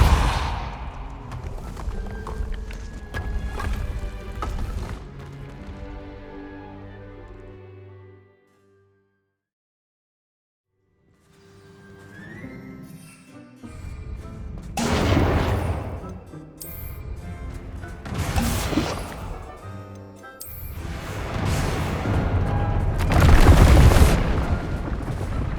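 Depulso spell blasts in Hogwarts Legacy, heavy booming impacts with rumbling tails, a loud burst, then a pause of near silence, then several more forceful thuds building to a strong final boom.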